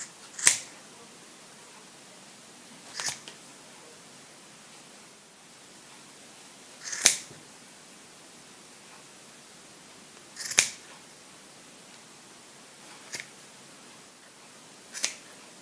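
Scissors snipping yarn for a crochet pom-pom, six sharp separate cuts a few seconds apart over a steady background hiss, close but not loud.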